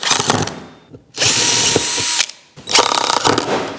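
A power driver screws an aluminium batten onto a frame in three loud whirring bursts separated by short pauses, each burst with a ratcheting edge.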